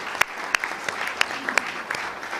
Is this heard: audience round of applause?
yes